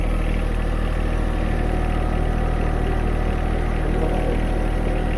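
A tractor engine idles steadily and loudly nearby at a worksite where a chicken coop is being built, its low rumble holding steady without talk.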